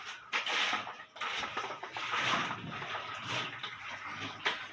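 Water runs and splashes steadily across a kitchen counter during cleaning, a broad continuous wash at moderate level with brief gaps, no talking.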